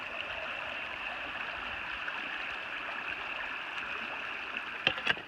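Forest stream running just downstream of a large gushing spring in Bankhead National Forest, Alabama, with a steady, moderately faint rush of water throughout and a couple of brief knocks near the end.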